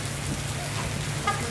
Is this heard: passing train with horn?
no